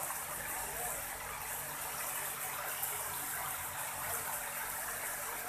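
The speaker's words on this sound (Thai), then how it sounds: "ตรงนี้จะเป็นน้ำตกจำลองที่เขาสร้างมาให้เด็กๆ เข้ามาเล่นได้" Water pouring from an artificial waterfall built for children to play in, a constant faint hiss of falling water with a soft background murmur.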